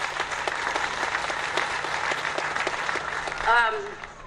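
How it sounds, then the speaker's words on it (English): Audience applause at the Surfing Walk of Fame induction ceremony, a steady crowd clapping throughout with voices mixed in, and a brief tonal whistle or cheer rising near the end. "a round of applause for those guys"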